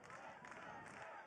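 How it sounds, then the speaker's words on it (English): Distant crowd cheering at a Maryland versus Princeton college lacrosse game, a brief steady roar of voices with slight swells, heard faint in the background. "Crowd getting into it."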